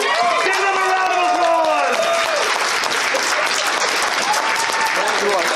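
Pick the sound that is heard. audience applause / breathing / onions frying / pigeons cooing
audience applause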